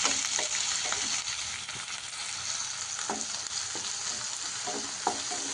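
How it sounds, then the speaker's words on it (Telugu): Thinly sliced onion and green chilli fry in hot oil with a constant bright sizzle, broken by soft scrapes of stirring now and then, close up and with no voices. "మనకి కలర్ చేంజ్ అయ్యేంత వరకు మనం ఫ్రై చేసుకోవాలి."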